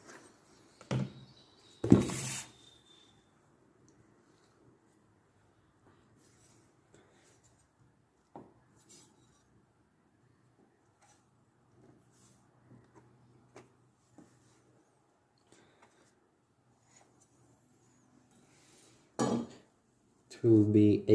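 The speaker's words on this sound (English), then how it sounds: "Now you take your knife and you cut it like you cut a pizza" A not-very-sharp kitchen knife slices food into pizza-style triangles, giving a few short scraping and clinking cuts at the start and end with near silence in between.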